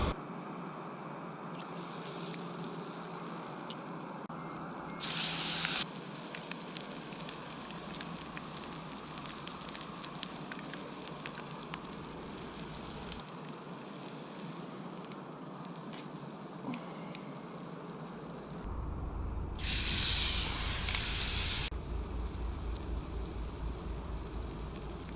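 A small camping stove burning fiercely outdoors while olive oil heats in a pan: a steady rushing, crackling roar that swells louder near the middle and toward the end, with faint background noise.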